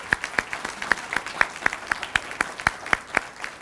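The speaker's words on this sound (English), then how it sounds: "Let's give them all a great round of applause." Applause from an audience at a county government State of the County event: a thin, evenly paced run of claps, fairly sparse and steady, with no cheering.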